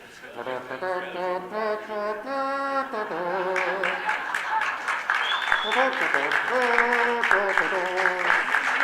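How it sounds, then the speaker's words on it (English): Audience applause rises as French delegates march into a UNI Global Union gathering, steady clapping running under bright tonal music and a few voices for the full stretch. "It would be nice to have a round of applause when they come in."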